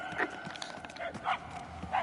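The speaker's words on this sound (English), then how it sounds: "The barking is getting fainter." A dog in the Guardians of the Galaxy game barks several times in short, evenly spaced yelps that sound somewhat distant, over a faint background hum.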